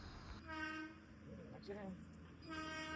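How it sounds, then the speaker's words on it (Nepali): A train passes with a steady rumble while its horn sounds loudly twice, once near the start and again at the end, and a voice speaks briefly between the blasts. "ट्रेन पनि आयो"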